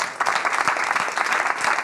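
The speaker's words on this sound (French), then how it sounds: "on va applaudir bien fort toutes les équipes qui ont contribué à ces 3 émissions s'il vous plaît" A television studio audience claps warmly for the production teams, a full, continuous burst of applause close at hand with no talking over it.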